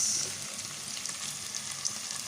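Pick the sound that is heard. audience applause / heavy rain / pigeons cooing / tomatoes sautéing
tomatoes sautéing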